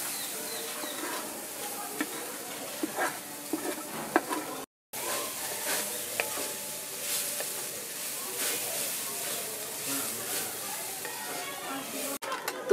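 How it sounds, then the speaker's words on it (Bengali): Grated coconut frying in a hot wok for a patishapta pitha filling gives a steady close sizzle and hiss, with stirring scrapes throughout and a brief cut partway. "তো কড়াই চাপিয়ে দিয়েছি, এবার আমি নারকেলটা দিয়ে দিচ্ছি।"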